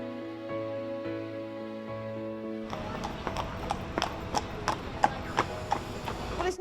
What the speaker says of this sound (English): He's just a lovely horse.